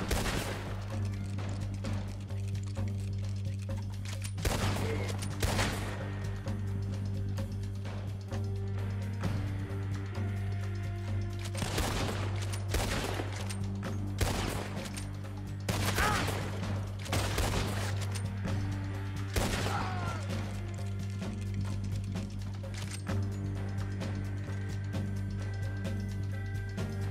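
Red Dead Redemption 2 gunfight with repeated bursts of gunfire, including a machine gun, as sharp, loud cracks and volleys spread irregularly over steady background game music.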